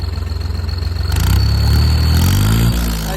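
A New Holland tractor fitted with a turbo silencer revs under the accelerator, starting with a steady pulsing idle and then swelling into a loud, sustained engine roar that stays close and dominant.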